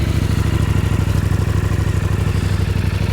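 A Suzuki GSX-8S motorcycle engine starts and chugs at a steady idle, loud and close, with a rapid even pulsing clatter and no voices.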